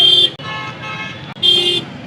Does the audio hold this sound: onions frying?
no